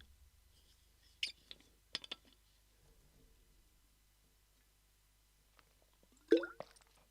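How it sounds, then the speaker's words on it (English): Water spills and drips onto a person during a live chat, a few faint, scattered wet splats and drips with long quiet gaps and a louder splash near the end. "Flipping heck, I just dropped water all down myself."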